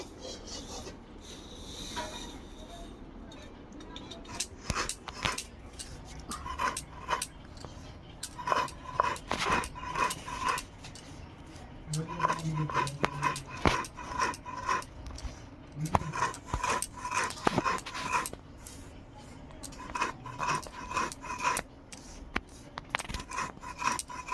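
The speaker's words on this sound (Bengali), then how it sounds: "প্রথমে আমি এই টক চিনিটা শিলনোড়ায় গুঁড়ো করে নেব" Citric acid crystals are ground by hand on a shil-nora grinding stone, producing repeated gritty scraping and rolling strokes with occasional sharp clicks, close up and fairly steady over a faint background.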